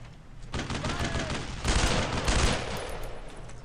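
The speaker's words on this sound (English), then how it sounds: "Keep up the fire! Fire at him!" Gunfire in the World War II shooter game Brothers in Arms: Road to Hill 30, a dense, continuous roar of sustained shooting that swells louder partway through, with a faint voice barely present underneath.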